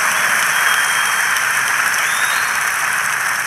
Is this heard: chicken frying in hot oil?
no